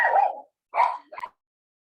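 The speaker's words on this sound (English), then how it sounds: "Sorry about my dogs." Dogs bark indoors in three short, close barks, the first longer and the last two quick, with silence between them and no talk.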